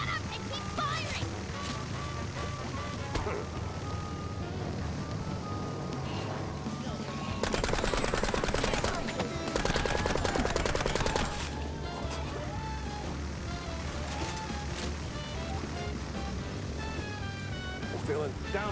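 Rapid gunfire from Mouse P.I. for Hire crackles in bursts over a busy game soundtrack, with voices talking throughout.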